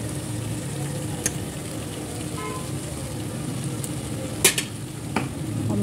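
A spiced potato and cauliflower curry, finished with garam masala and green coriander, sizzles steadily in a pan while it is stirred, with a few brief clinks of the spoon against the metal.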